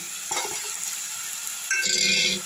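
Spices stirred in a cooking pan for a sour spinach dish, with a soft scraping stir over a steady sizzle that grows brighter and louder near the end; no talking.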